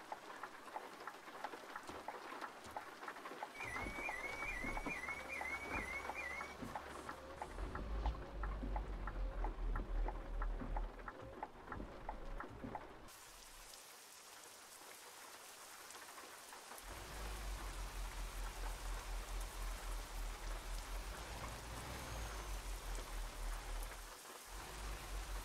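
Rain drums steadily on the truck in Euro Truck Simulator 2, a dense hiss of drops with low rumbles beneath. The sound shifts abruptly partway through, as if the view changed, then the downpour continues.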